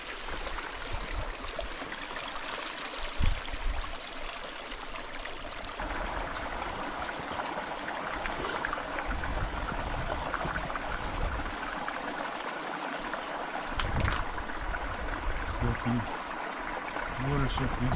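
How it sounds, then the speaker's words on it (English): The Colorado River rushes and babbles steadily close by, a continuous broadband flow of mountain water with occasional splashes. "The waters of this river coming from the mountain and from the rains of the autumn"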